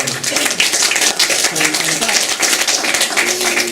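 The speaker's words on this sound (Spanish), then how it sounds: "le damos un aplauso a Lisette" An audience gives a short round of clapping, close and uneven, mixed with talk over the claps.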